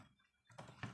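Keystrokes on a computer keyboard while coding in the Spring Framework, a few quiet clicks and a firmer tap near the end after a near-silent start.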